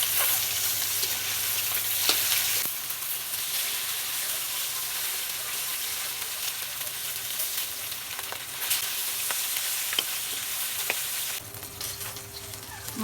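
Pieces of catla fish frying in hot oil make a steady, dense sizzle that carries throughout, with occasional sharp crackles and pops and a brief clatter partway through.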